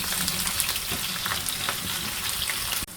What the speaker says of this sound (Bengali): এখন পেঁয়াজ দিয়ে দিলাম।